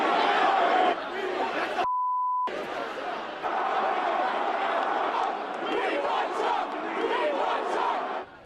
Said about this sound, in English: The clash continued even as the crowd spilled out onto the streets